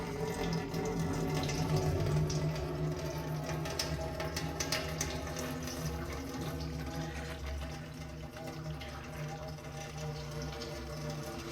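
Black engine oil draining from an auction-bought TBSS during its first oil change, a steady liquid stream pouring continuously into a pan, close and fairly quiet with a low background hum.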